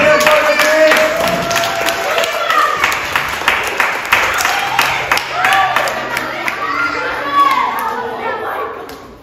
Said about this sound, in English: Big applause again for the team.